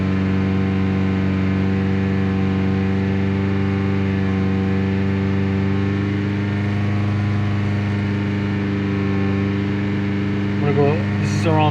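Toyota Celica engine with P0171 lean and P0300/P0301 misfire codes, revved to a higher RPM and holding a loud, steady droning hum with strong harmonic tones throughout, plus a brief rising sound near the end.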